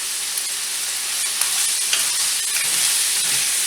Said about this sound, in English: the sizzle that we're hearing